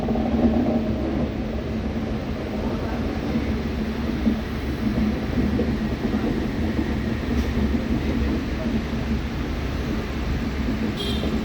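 The 16622 Mangaluru Rameshwaram Express rolls along in India, heard from inside a coach as a steady loud rumble with continuous rail noise and no voices.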